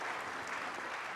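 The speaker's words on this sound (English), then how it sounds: "I think if we can give a round of applause to the panel." Brief, faint applause from a forum audience after an animal health panel on vaccines, an even wash of many clapping hands.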